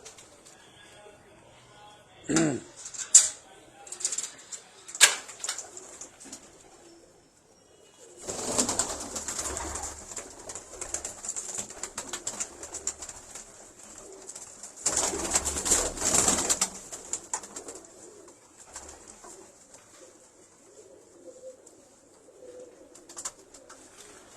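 Pigeons coo in soft repeated phrases, joined by bursts of wing flapping and rustling, with a few voices talking quietly in the background.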